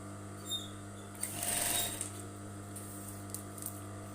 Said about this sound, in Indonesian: Kita jahit lagi di sini.